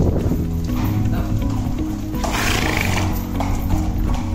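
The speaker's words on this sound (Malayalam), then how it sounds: "ഇപ്പം നമുക്കൊന്ന് ത്രോട്ട് ചെയ്ത് നോക്കാം." A lame horse trotting, its hooves clip-clopping steadily and close by in an uneven rhythm, with a brief whinny and some background noise.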